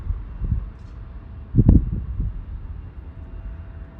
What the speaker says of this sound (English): I think this is our second time capturing a takeoff by the 787